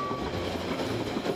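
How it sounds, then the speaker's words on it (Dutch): A Harz narrow-gauge steam railway train runs steadily, heard from on board as a continuous rumble with faint rhythmic wheel clatter and a brief thin whistle-like tone at the start. "De trein gaat enkele tientallen kilometers door vlak land tot aan het station"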